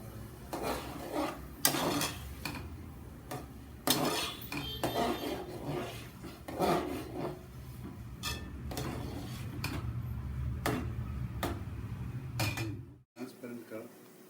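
Chopped onions frying in a pan for Chettinad fish curry, with a spatula repeatedly scraping and clattering against the metal over a steady low background rumble.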